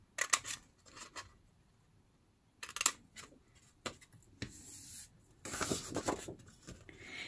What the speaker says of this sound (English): I'm gonna cut off these two double crossed corners. Just straight cutting here